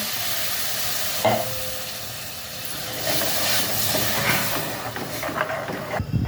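Steady stirring and scraping of crab curry masala with ground coconut paste in a pan over a soft sizzling hiss, with a few louder clinks and scrapes near the start and end.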